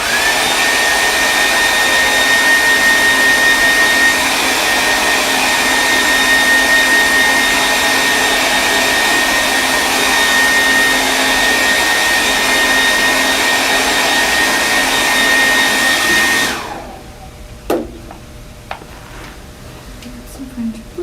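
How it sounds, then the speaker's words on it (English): Hair dryer blowing on a painting, a loud steady whooshing whine running unbroken for about sixteen seconds before it switches off abruptly, leaving a quiet room with a few small knocks. "I'm going to blow dry this really quickly."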